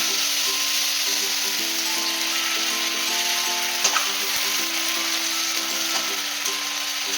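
Onion paste for kofta curry sizzles and fries in hot oil, a steady close crackling hiss throughout with a few soft stirring knocks, no voices.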